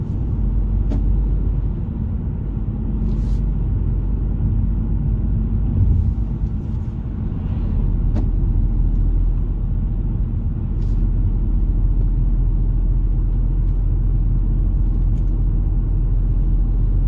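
A car cruises at 70 km/h on a road toward France, heard from inside the cabin as a steady, loud low rumble of engine and tyres that stays constant throughout, with no talk.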